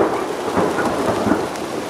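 Afternoon thunderstorm in Crestline, California: heavy steady rain roars close and loud while low thunder rumbles underneath throughout.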